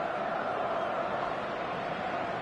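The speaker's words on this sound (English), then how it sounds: "The stadium is full of noise and energy." Stadium crowd noise at a football match in a video game, a dense, steady roar of many voices at moderate level with no distinct commentary.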